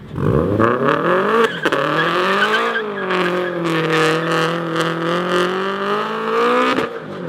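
A Subaru WRX revs hard and slides sideways, its engine pitch climbing and falling in loud sweeping surges while the tires squeal and lay rubber, with a few sharp bumps as it fishtails close by.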